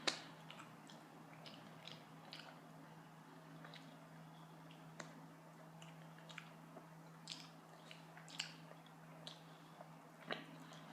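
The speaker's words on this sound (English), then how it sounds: "Maybe find the chewing noises a little bit," Soft, close-up chewing of Taco Bell food with small wet clicks and crunches at irregular intervals over a steady low hum, quiet and intimate.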